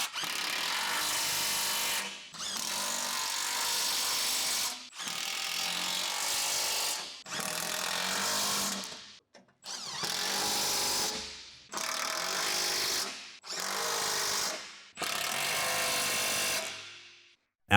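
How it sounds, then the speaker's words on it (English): Large electric impact wrench with a 15 mm shallow socket running underguard mounting screws tight on a Ford F-150, repeated hammering bursts of about a second or two each, eight or so in a row with short pauses. "Use a large size 15 mm shallow socket with a large size electric impact wrench to tighten them"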